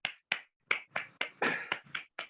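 Scattered, uneven handclaps from a small audience welcoming a panel speaker at a session, about nine sharp claps in quick, irregular succession, close and fairly loud.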